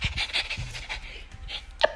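A puppy pants in rapid, breathy bursts close to the listener, ending with a brief whimper-like squeak.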